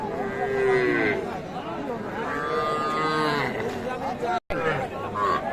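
Young bull calves moo at Aftabganj cattle market, with repeated loud, close lowing calls over a busy crowd and people talking and bargaining nearby.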